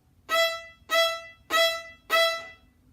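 Four short, evenly spaced staccato violin notes on an open string, each bowed crisply and cut off cleanly, close and fairly loud with brief silences between them.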